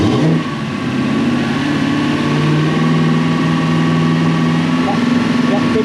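A Toyota Celsior (Lexus LS400) car engine, checked for a fault that blows air flow meters, revs and holds a steady raised drone throughout, close and loud, with people talking over it.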